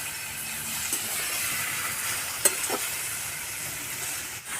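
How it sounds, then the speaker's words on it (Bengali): Chopped tomato frying with onion and aubergine in a hot pan, stirred steadily, with a continuous close sizzle and hiss and a few soft scrapes of the spoon. "টমাটো কুচিটা দিয়ে দেবো ভালো করে নাড়াচাড়া করে নিচ্ছি"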